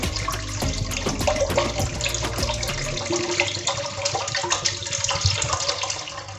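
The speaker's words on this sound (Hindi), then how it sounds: "अब यहाँ मैं डाल दूँगी पानी" Water pours steadily into a heated pot while pani puri water is being made, a continuous close splashing and gurgling stream with a brief clatter at the start and no talk.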